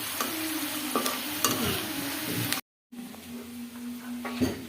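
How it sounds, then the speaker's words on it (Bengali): Food frying in a pan, with a close steady sizzle broken by a few stirring scrapes and clinks, a brief gap, then more sizzling. "তারপর আমি ভাজা পোড়া করা শুরু করে দিই"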